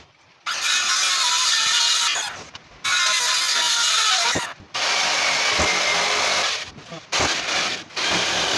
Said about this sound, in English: Now it's time to cut her out and drill the holes.